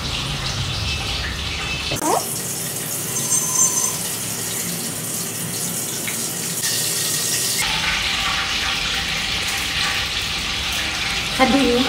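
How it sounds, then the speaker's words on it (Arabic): Fish fingers drop into hot oil and sizzle loudly, a dense hiss that swells as each piece goes in and continues steadily up close. "خلوني هنزل بيهم على الزيت"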